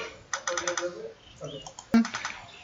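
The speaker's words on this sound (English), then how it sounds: "You have to click in your keyboard CTRL shift plus ESC" Keys on a computer keyboard are pressed for the Ctrl+Shift+Esc shortcut, giving a quick run of close, crisp clicks, a pause, then a sharp louder tap and a few more clicks.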